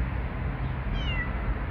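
A cat at a bus stop gives a single short meow, moderately close, over steady outdoor traffic rumble and background noise.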